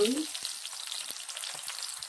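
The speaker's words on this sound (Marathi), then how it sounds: "जिरे तडतड झाले की आपण जो फोडणीला कांदा घेतला आहे तो घालायचा आहे" Chopped onion frying in hot oil over a popped mustard-seed and cumin tempering, a steady bright sizzle with a few soft stirring taps, heard alone at close range.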